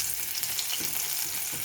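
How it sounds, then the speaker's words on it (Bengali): Okra pieces fry in hot oil in a wok with a steady, close sizzle and faint stirring movements, with no voices. "কড়াইয়ের তেলটাও ভালো মতন গরম হয়ে গেছে। এবার আমি ভেন্ডিগুলোকে দিয়ে দেবো।"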